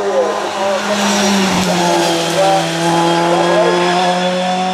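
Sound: Mercedes race car driving in hill climb

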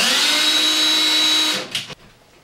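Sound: power drill drilling holes in wall

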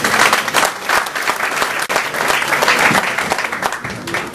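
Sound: audience applauding at awards ceremony

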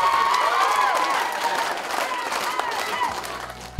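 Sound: women clapping to support their teams

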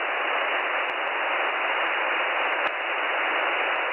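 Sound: radio static before a number station broadcast

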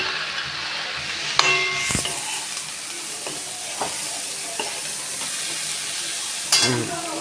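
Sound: masala cowpeas sizzling while being sautéed in a pan

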